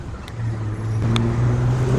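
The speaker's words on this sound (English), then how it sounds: "How does it sound now trying to cancel out this intersection noise?" Traffic at a busy city intersection with buses going by: a steady low engine rumble and tonal hum throughout, a few brief high clicks standing out.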